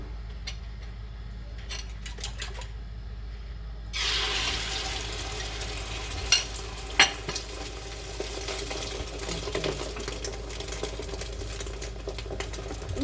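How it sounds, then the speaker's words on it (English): Potatoes and egg sizzling in a very hot pan for a potato egg omelet, a quiet hiss that jumps to a loud, steady crackling fry after a few seconds, with scattered pops and clinks throughout. "that one's cooking fast because it's super hot in the pan"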